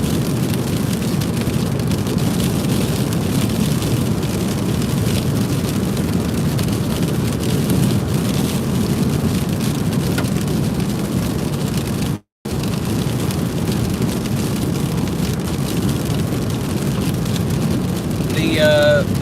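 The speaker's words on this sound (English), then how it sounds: "This almost sounds like a really heavy rain, but it's just ice." Ice falls steadily in a winter storm along a mountain highway, making a dense, continuous hiss like heavy rain that stays loud and even, cut briefly by one short gap.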